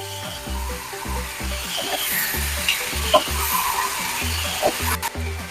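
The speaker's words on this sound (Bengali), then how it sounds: "একটু ভালো করে এবার কষিয়ে নিতে হবে" Pieces of fried chicken being sautéed and stirred in a pan for butter chicken, soft sizzling under a regular thumping beat of background music, with scattered scrapes of the spoon.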